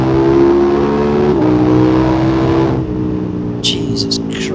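A KTM 1290 Super Adventure S motorcycle accelerates hard, its engine revving loud and rising in pitch before a gear change, heard close from the rider's position with wind noise.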